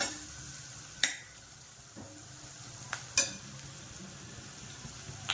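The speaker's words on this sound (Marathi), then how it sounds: "थोडंसं तेल घालूया आता जरा, परतून घ्यायचं हे चांगलं." Vegetables for a bakery-style khari patties filling sauté in a little oil in a pan, with a quiet steady sizzle punctuated by a few sharp clinks of a spoon stirring against the metal.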